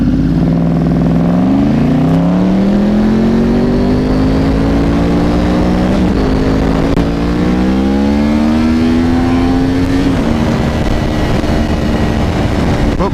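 A Yamaha R1 motorcycle's inline-four engine revs loudly and up close, its pitch climbing steadily in long rising sweeps with a deep, rough, V8-like growl, heard alone without talk.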